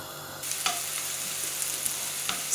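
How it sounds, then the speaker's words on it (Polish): Onion hits melted butter in a hot pan and starts frying with a sudden steady sizzle, a few stirring clicks over it, close and alone. "Cebulkę podsmażam do miękkości."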